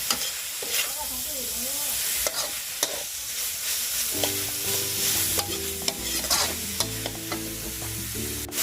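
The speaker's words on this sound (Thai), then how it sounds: "อันนี้เราก็จะคั่วแห้งๆนะครับ ใส่ใบมะกรูดเข้าไปหน่อย คั่วไปเรื่อย" Dry-roasting in a pan with kaffir lime leaves brings repeated scraping and clattering strokes over a light hiss, while sustained tonal sounds run underneath in the second half.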